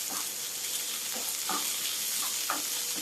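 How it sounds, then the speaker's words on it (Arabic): Half-boiled peas and carrots sizzle steadily as they are sautéed together in a pan, a soft, even frying hiss with a few light stirring scrapes and no talking. "ياخدوا برضه تشويحه مع بعضها كلها كده"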